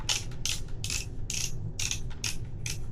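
A helmet's ratcheting size-adjustment dial is turned in short bursts, giving about seven quick rattling clicks in a steady rhythm, close and fairly loud.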